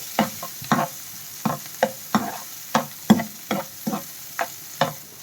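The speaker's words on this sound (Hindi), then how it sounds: "इसको थोड़ा सा भून लेते हैं हम।" Finely chopped capsicum sautés in a pan for masala sweet corn. A spatula scrapes and stirs in regular strokes, about two each second, over a soft sizzle, close by with no talking.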